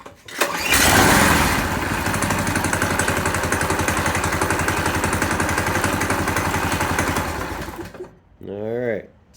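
A Heald supertrike engine cranks and catches, then runs at a steady, loud, buzzing idle for about seven seconds before cutting out. A voice speaks briefly right after it stops.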